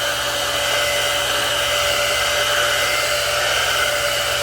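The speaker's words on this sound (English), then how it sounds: "I put the blow dryer on and I spray it a couple times." Continuous rushing hum of a hair blow dryer used on a lace front quick weave, close and loud with a faint high whine, steady throughout with no voices.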